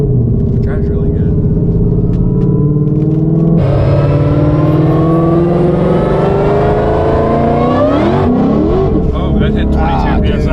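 A Carbon Track Pack Ford GT500 with a Whipple supercharger, making nearly 1200 hp, accelerates hard. Its loud engine roar climbs steadily in pitch with supercharger whine, shifts partway through and keeps pulling, with voices talking over it.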